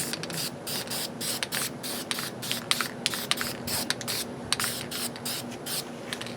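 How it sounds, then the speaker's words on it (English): Aerosol spray paint hissing over a stencil in repeated short bursts, each spray a few tenths of a second long with brief gaps between them, close and steady with no talking. "And then we're just going to start spraying."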